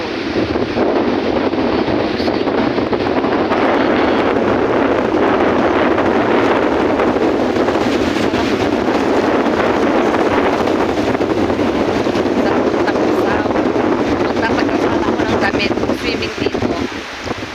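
Strong wind buffets the microphone in a loud, continuous roar at San Fabian beach, with water and a boat faintly underneath and muffled voices at times.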